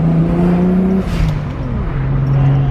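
A Toyota Supra MK4 fitted with a T56 Magnum 6-speed gearbox revs loudly and close by, its engine note holding steady, dipping, then climbing again in a smooth drone with no voices over it.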